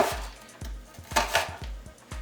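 Knife chopping onions on a cutting board for bruschetta chicken, a run of sharp, close thuds repeating at a quick, slightly uneven rhythm, with no talking.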